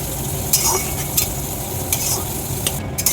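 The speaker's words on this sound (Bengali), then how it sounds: "একটু হলুদ গুঁড়ো দিয়ে দেবো, জিরে গুঁড়ো দেবো, একটু মিষ্টি দিয়ে দেবো, অল্প একটু জল দেবো, দিয়ে মশলা কিছু কষে নেব।" Spices with turmeric and cumin fry in a pan with a splash of water, a continuous loud sizzle broken by several sharp scraping stirs of the spatula, with no voices.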